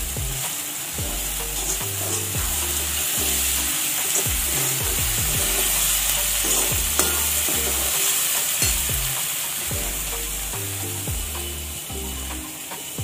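Soaked puffed rice (kurmure) is tipped into a hot frying pan and stirred, giving a steady sizzle with scraping stirs throughout, under continuous background music.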